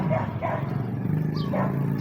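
A dog barks a few times in short bursts, moderately close, with a whiny yip mixed in and light background noise.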